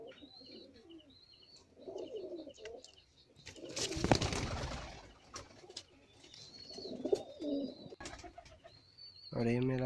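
High-flyer pigeons in a loft coo softly in low, rolling calls, with chirps and a burst of wing flapping, all fairly faint and close, while someone talks.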